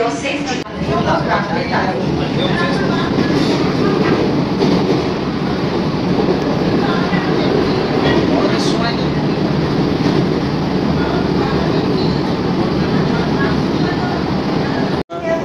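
Inside an AC local train running from Ranaghat to Sealdah in Bengal, a loud, steady rumble of carriage and track noise fills the whole stretch, with faint clattering and voices mixed in.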